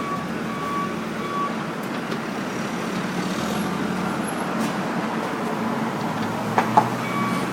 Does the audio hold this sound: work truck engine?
yes